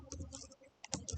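Computer keyboard typing comes in irregular bursts of quiet clicks, close up, with no speech.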